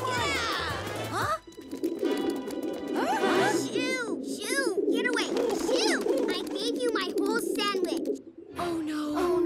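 Pigeons cooing and calling near a food stand, a dense run of warbling bird sounds mixed with high chirps, with a voice speaking over them.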